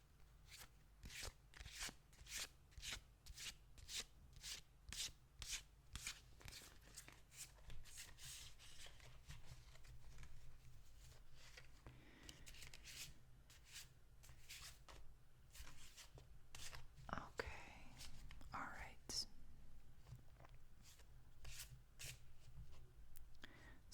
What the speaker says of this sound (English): I'm going to try and make the shuffling sounds